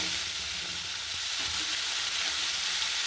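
Spice paste with cardamom and bay leaf frying in leftover fish-frying oil for Bengali rui fish kaliya, giving a steady, even sizzle that holds close and constant throughout with no voices.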